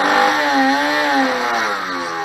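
An RC model's electric motor whines under throttle, a loud continuous tone with rising and falling pitch across the whole stretch and no talking.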